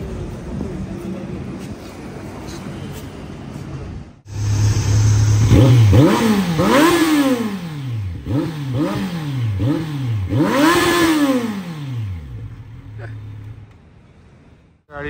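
Kawasaki Ninja 300 BS6 motorcycle fitted with an Austin Racing exhaust, starting up and revving hard close by in repeated rising and falling blips before settling back to idle.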